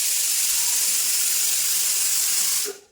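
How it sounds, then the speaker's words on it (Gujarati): A pressure cooker boiling dal vents steam in a loud, steady hiss close by, lasting almost three seconds before cutting off abruptly. "મેં કુકર ઉપર દાળ બાફા મૂકી હતી"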